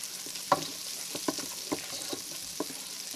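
Kerrygold butter sizzles in a pan over medium-low heat, giving a soft, continuous frying hiss broken by a few light clicks and taps.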